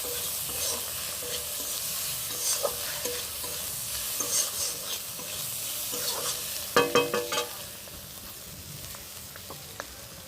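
Googli snails sizzle in hot oil under steady frying hiss, with intermittent scrapes and clatters from stirring, including a brief cluster of louder knocks midway before it settles back to quieter sizzling.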